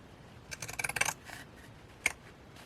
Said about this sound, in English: I'm going to actually use these scissors.